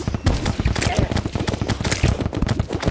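A pirate captain fires a machine gun in Terraria, a dense run of rapid, loud, closely spaced shots that hammers on without pause.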